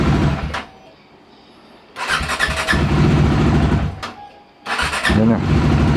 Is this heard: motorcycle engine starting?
yes